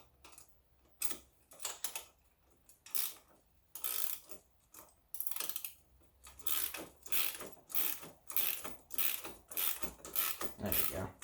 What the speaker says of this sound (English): And now, get to your wrenches.